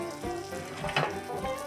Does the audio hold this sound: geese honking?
no